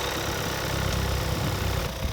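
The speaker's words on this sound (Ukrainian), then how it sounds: "Дивимося, як працює, двигун вже прогріти" A warmed-up Skoda Kodiaq diesel engine idles steadily and evenly, a continuous close mechanical rumble with no one speaking.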